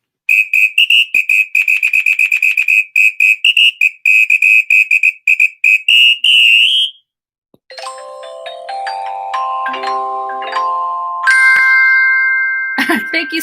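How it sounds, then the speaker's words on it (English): A samba whistle gives a rapid series of loud, shrill trilling blasts over the first half, then it stops and a chiming jingle with rising tones follows. "I'm going to give you the samba whistle."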